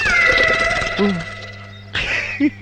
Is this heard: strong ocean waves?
no